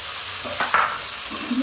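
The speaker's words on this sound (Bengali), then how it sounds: "আদা রসুন বাটা পেঁয়াজ বাটা দিয়ে দিলাম।" Ginger, garlic and onion paste sizzles loudly in hot oil, with a spatula scraping and stirring it through a short burst.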